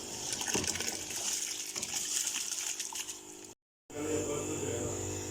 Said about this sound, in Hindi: अब इस स्टेज पर मैं इसमें अपने चावल जो है वो ऐड कर दूँगी